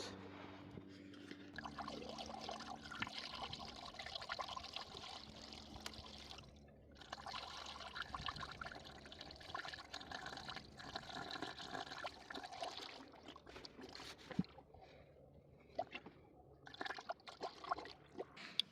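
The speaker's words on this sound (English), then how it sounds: "And that is putting in the coolant." Coolant pouring into the cooling system of a 2007 Mitsubishi Outlander during a thermostat replacement, a soft steady trickle and gurgle of liquid that runs on for many seconds with brief pauses.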